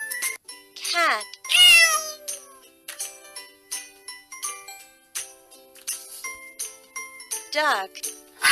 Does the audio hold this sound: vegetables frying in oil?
no